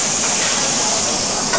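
Beef browns in a hot pan with a loud, continuous sizzle and steady hiss, close and unbroken throughout.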